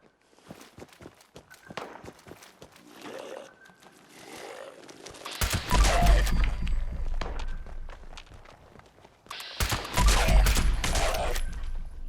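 Furious lever action rifle with a faster fire rate fires in Fallout 76: two loud, booming shots about four seconds apart, each with a long, heavy tail, after a stretch of light footsteps and small clicks.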